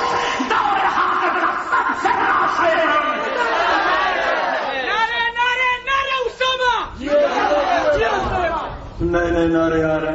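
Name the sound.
crowd chanting slogans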